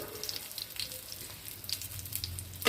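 Rolled balls deep-fry in hot oil, a soft, steady bubbling fizz that stays fairly faint, with small pops scattered through it.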